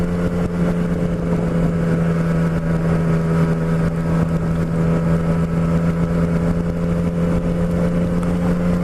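Motorcycle engine running steadily on a December ride, a loud continuous drone with a low hum that holds for the whole stretch, with no talk over it.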